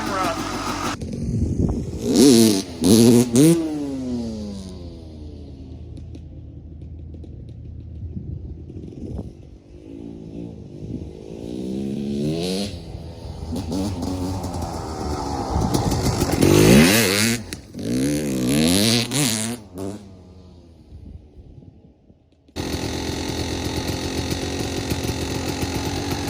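Husqvarna WR250 dirt bike fitted with a Rekluse clutch, its two-stroke engine revving up and down in rising and falling sweeps, close and loud, then settling into a rough steady idle near the end; a voice may speak briefly.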